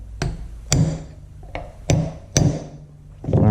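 A hammer strikes a brass drift to drive a pin into a Farmall Super MTA tractor oil pump, five sharp metallic blows at uneven intervals, close and loud, with a scraping shuffle at the end.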